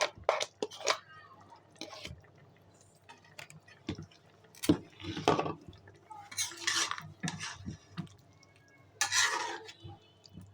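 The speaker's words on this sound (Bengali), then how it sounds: "নেড়ে চেড়ে আমি দিয়ে দিব মাছ। আমার কষিয়ে রাখা মাছগুলি এবার আমি দিয়ে দিলাম।" Bottle gourd and stinging catfish stirred in a pan, a series of sharp scraping clinks and clatters of a spoon against metal, irregular and close, with quiet gaps between bursts.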